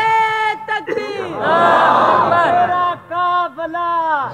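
A large crowd at a religious gathering answers the Nara-e-Takbeer slogan with a loud, unified chant, voices swelling together in sustained shouted calls that rise and fall over a few seconds.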